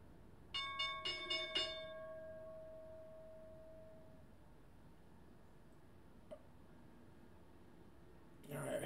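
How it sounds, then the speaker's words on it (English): A stock market opening bell gives several quick, bright, ringing strikes in a short burst, then a tone that decays for a few seconds. The rest is quiet, with a soft tick and a brief noise at the end. "About 5 seconds to the bell."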